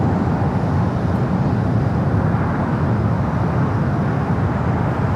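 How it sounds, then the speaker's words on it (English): A Boeing 767-300ER from Atlanta takes off from runway 24 Left at LAX, heard as a steady, broad jet roar that holds at an even level throughout without a break. "That one taking off 24 left, 24 right is the flight coming from Atlanta, the 767 at"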